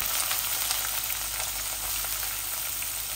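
Chicken and onions frying dry in a pan for a Bengali kosha bhuna, a steady close sizzle with no pauses or talk.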